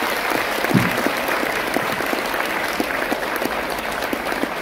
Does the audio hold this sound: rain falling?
no